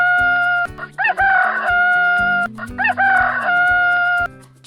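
A rooster crows twice in a children's animal-sounds song, each loud, clear crow rising over bouncy backing music.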